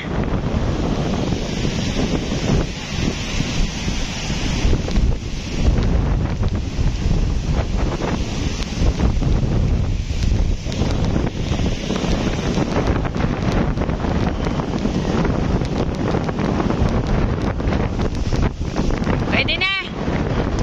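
Strong gusting typhoon wind roars against the microphone for a long stretch, with water and boat sounds mixed in and a brief high whine near the end.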